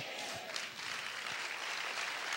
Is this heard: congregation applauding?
yes